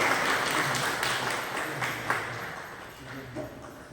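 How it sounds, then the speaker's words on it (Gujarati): Applause welcoming a folk literature writer and researcher onto the stage at a Gujarati literary and arts honour event: a steady wash of crowd clapping holds throughout and thins slightly toward the end, with a voice speaking over it. "તો આપણે તેમને જોરદાર તાળીઓથી આગળ બોલાવીએ"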